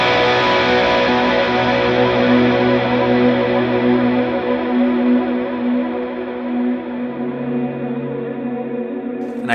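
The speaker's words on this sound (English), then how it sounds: "a huge long tail of a reverb so that when I end the song" A sustained guitar note rings out through a JET Pedals MCX pedal setup with a long, washy reverb tail that slowly fades over several seconds, with no voices.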